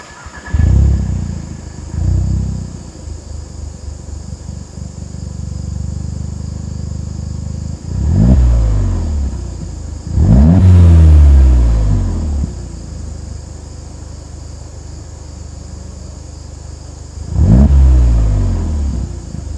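A car with a CTS Turbo 3-inch cat-back exhaust revs in several sharp bursts over a low idle rumble, with steady insect chirping high in the background.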